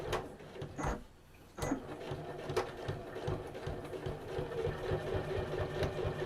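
Sewing machine stitching a quarter-inch seam on fabric for a luggage tag: a close mechanical whir with rapid needle chatter, briefly pausing near the start then running steadily.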